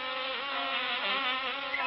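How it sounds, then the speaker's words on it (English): Bees buzzing in an old cartoon: a dense, continuous, insect-like drone with a wavering pitch, steady and moderately loud throughout with no voices. "The bees were the last to go in,"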